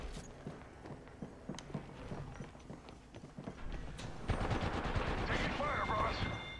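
Gunshots in an online shooter game, first as spaced single cracks and then as a denser, louder volley toward the end, heard close and partly under faint voices.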